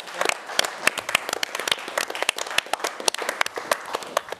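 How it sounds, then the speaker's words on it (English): Studio audience of a rugby television show giving a steady, lively round of applause, dense overlapping claps from a modest crowd, fairly close and sustained throughout with no talking. "everyone give him a big round of applause to Benky Kane"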